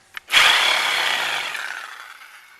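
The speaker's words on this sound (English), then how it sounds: "go ahead and finish sawing that right down there" After a faint tap, a single long, harsh rasp of a hand saw cutting through a metal fender support on a Suzuki Volusia 800 motorcycle begins loudly and fades over about two seconds.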